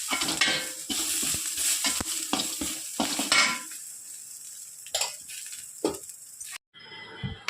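Washed curry leaves drop into frying chutney ingredients with bursts of sizzling and spoon scraping against the pan, dying down to quieter intermittent stirring and a few clinks before a brief silence.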